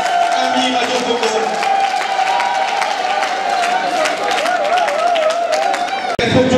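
A ceremony audience for a mutual insurance organisation in Congo claps continuously in a dense, sustained round of applause, loud and close, with a brief break near the end.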